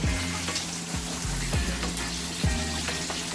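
Chicken fries in a pan over low heat, giving a steady, close sizzle and crackle with occasional sharper pops, alone without talk.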